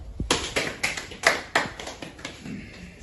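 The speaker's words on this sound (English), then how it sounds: "as the last speaker comes up, let us just give a clap" A small audience at a school debate on running an educational institution claps for the last speaker: a handful of sparse, uneven hand claps spread over a few seconds, fairly close and with no voices.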